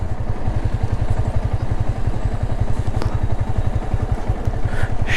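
A motorcycle on the rough hill road from Keokradong back to Boga Lake, engine thumping steadily with a fast regular pulse, loud and close, with some clatter over it.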